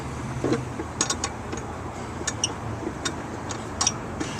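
A threaded spare tire hold-down bolt on a Honda being turned loose, making quiet, irregular ticks and clicks with faint metallic creaks.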